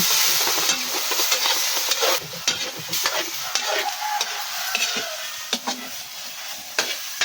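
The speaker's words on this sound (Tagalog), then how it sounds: "Halo-haloy natin." Clam adobo (adobong tuway) being stirred in a hot pan: a steady, loud sizzle with repeated scraping strokes and clicks of the spatula throughout, close up, with no talking.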